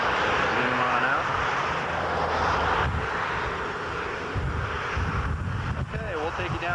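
A model airplane engine, a model Cessna or a P-61, buzzes steadily during a 1991 maiden flight at an outdoor flying field, mixed with strong wind noise and distant voices.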